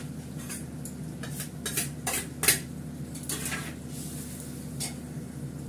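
Ginger paste goes into a pan and is stirred with a metal utensil. Sharp clinks and scrapes against the cookware stand out over a steady low hum, with only a faint sizzle beneath.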